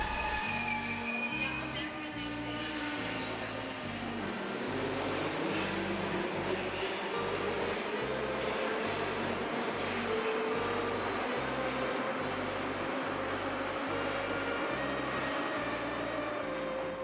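A St Petersburg metro train rumbles along its tunnel with a steady rhythmic clatter of wheels over rail joints, while a rising motor whine and faint squeal build as it gathers speed, loud and close from inside the car.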